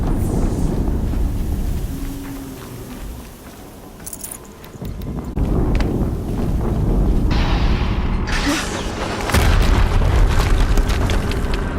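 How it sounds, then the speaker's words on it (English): Explosions in the video game Horizon Zero Dawn boom in heavy, rumbling waves, with a deep blast near the start, a lull, then louder rolling detonations building through the final seconds. "Another explosion."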